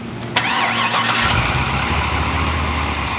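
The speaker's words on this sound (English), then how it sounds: "That LS2 6-liter fires right up just like it should." A Vortech-supercharged LS2 6.0L V8 in a 2005 Chevrolet Corvette cranks and fires up close by, catching quickly and then settling into a steady, loud, rumbling idle.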